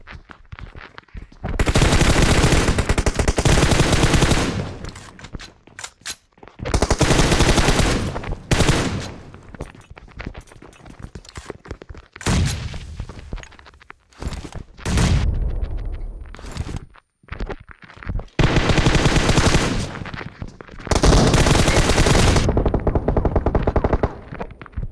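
Automatic rifle fire in PUBG Mobile with a 30-round magazine, loud and close, coming in repeated long bursts and short rattling volleys with brief pauses between them, nearly free of talk.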